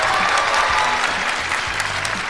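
An audience at a Chinese stand-up comedy show bursts into applause, a dense, loud clapping that fills the whole short stretch without any voices.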